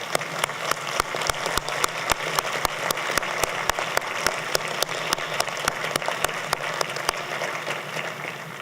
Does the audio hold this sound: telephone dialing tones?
no